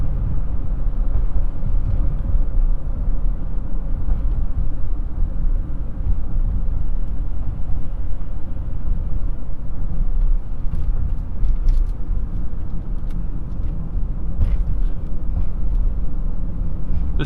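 Honda Ridgeline pickup truck driven fast, a steady, loud low road and engine drone with tire roar holding evenly throughout, no voices over it.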